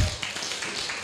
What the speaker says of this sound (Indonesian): saya lupa tepuk tangan dong buat Mas Udin